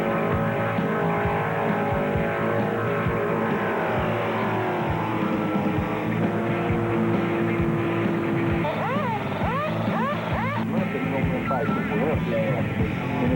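A stock car on a racing lap at about 180 mph, its engine a loud continuous roar with gear changes and whining pitch sweeps near the end, under talk.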